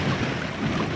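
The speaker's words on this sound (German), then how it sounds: "Man sieht und hört es vielleicht auch ein bisschen hier am Wellengang. Mini-Wellen, aber dieser leichte Wind ist hier doch recht frisch." Light wind rushing across the microphone on the Norwegian skerry coast, with small waves lapping underneath as a steady, fairly loud wash and no other sounds.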